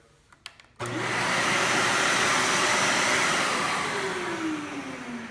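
A Bissell 3-in-1 stick vacuum motor switches on after a few faint handling clicks, then runs steadily and loudly as a continuous whirring roar, its pitch shifting slightly near the end, with no talking.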